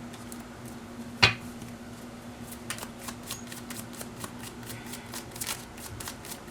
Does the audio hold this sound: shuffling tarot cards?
yes